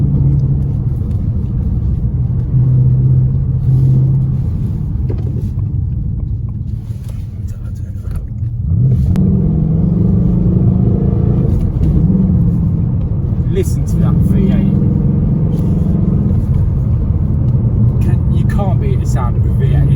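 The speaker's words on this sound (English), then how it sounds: "sound of a V8. It's phenomenal." Ford Mustang GT 2018 V8 engine rumbling loudly and close, a deep steady burble that dips briefly then swells back as the engine is revved, with throttle blips near the end.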